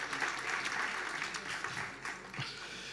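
Congregation at a church worship service applauding: a few seconds of steady, moderately quiet clapping from a crowd, with scattered voices mixed in and a slight fade toward the end.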